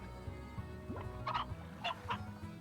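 Chickens clucking in the Slime Rancher video game, a few short, bright squawks and clucks in quick succession over a soft background.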